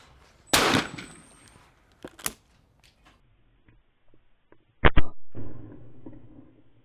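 A shotgun fires at clay targets: two loud, sharp blasts several seconds apart, each with a short echoing tail, separated by softer handling clicks.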